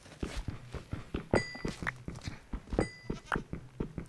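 A Minecraft goat bleats a few times amid light rhythmic footsteps and soft thumps, with the calls short and moderately close.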